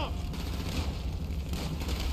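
Gunfire in the video game GTA V during a gang shootout: dense, rapid crackling shots and bursts fill the whole stretch, a continuous barrage over busy game sound.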